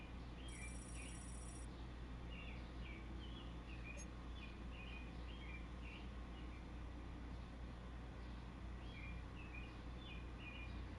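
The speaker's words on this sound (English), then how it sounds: "You hear the goddamn birds chirping" Birds chirp outdoors in the morning, a scattering of short, faint, high calls repeating through the clip over steady low background rumble, with no talking.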